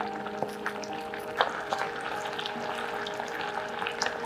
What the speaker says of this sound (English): Add the salmon skin side down to the skillet and allow it to cook for 2 minutes while spooning the sauce over the salmon